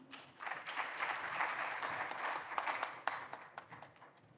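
An audience at a business forum applauds the CEO of RISA, a steady wash of clapping that swells and then thins into a few scattered, sharper claps toward the end.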